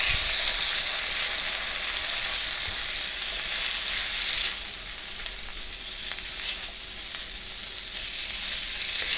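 About a cup of black beans sizzles loudly in a hot pan, a continuous crackling hiss that dips briefly midway and then carries on steadily.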